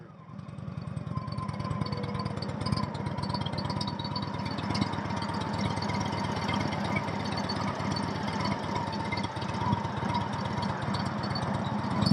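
An Indian motorcycle engine fitted with exhaust slip-ons idles with a steady low, pulsing rumble, close and even throughout with no one speaking.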